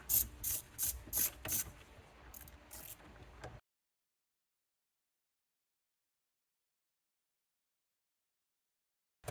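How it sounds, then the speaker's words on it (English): A ratchet with a 10 mm socket loosens a bolt during steering wheel removal on a 2008-2020 Dodge Grand Caravan, giving several quick, close, clicking ratchet strokes over about three seconds before silence. "get our 10 millimeter socket in there and go in the anti-clockwise to loosen and remove the bolt"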